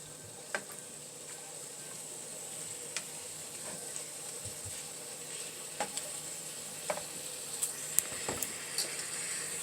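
Salmon and shrimp seasoned with seafood seasoning, kosher salt and lemon pepper sizzle in a pan with garlic paste, a steady close frying hiss broken by faint clicks and stirring taps, with no talk.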